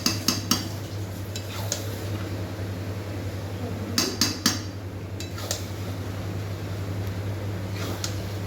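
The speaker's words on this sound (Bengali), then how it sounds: "তো ভালো করে মিশিয়ে দিচ্ছি আমি।" Chicken being stirred with spices in a pot, with a metal spoon scraping and clinking against the pot in scattered bursts over a steady low hum.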